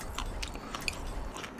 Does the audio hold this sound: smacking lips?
yes